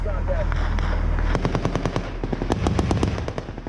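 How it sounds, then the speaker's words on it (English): Automatic gunfire in Afghanistan combat footage, with rapid outgoing bursts of shots that sharpen into distinct cracks in the second half over a constant low rumble. "There's a lot of outgoing rounds."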